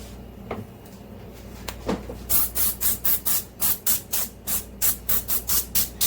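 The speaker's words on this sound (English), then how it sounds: "put some parchment on it. You're going to spray that." After a few clicks, an aerosol cooking spray hisses in a rapid series of short bursts onto parchment on a cookie sheet, close and fairly loud, with brief pauses between each spritz.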